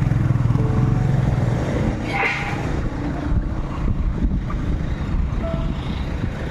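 Motorized tricycle engine rumbling continuously while riding, a loud, steady low chug with clatter and road noise throughout.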